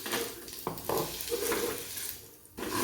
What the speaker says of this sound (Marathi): एकदम मंद आचेवरती फक्त दोनच मिनिट असं परतून घेणार आहे